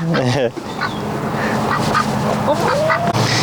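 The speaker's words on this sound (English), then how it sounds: "Look at these two quackers." Two ducks quack and honk in a garden, with nasal calls close by and bursts of chatter over soft background noise, with no talking.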